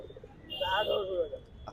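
A pigeon coos once, low and throaty, near at a crowded pigeon market, with quiet background murmur around it.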